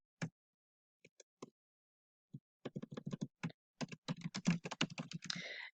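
Keys clatter on a computer keyboard, a few isolated taps at first, then a quicker, steadier run of close, crisp keystrokes in an otherwise quiet room, with no talking.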